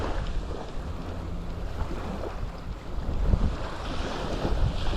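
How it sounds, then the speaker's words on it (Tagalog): Steady wind blows across open water while fishing at sea, a constant rushing hiss with low rumble and faint wave wash beneath, gently swelling toward the end, no voices. "ang lakas ng hangin eh"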